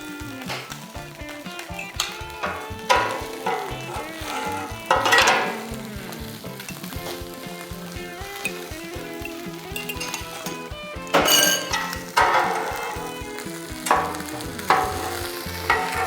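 Scrambled eggs sizzling and frying in a pan beside other breakfast sandwich fillings, a loud, close, continuous crackle with intermittent scraping and clinks of a spatula stirring.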